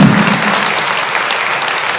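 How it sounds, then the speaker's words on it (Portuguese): A church congregation bursts into loud, sustained applause during a sermon, a dense steady wash of clapping with a brief low murmur at the start. "Um aplauso ao Senhor Jesus."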